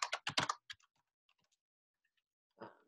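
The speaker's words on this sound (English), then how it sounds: "Let me type in breeds" Keys on a computer keyboard are typed in a quick burst of close, crisp clicks. A short pause follows, then a final small cluster of taps, all in a quiet room without talk.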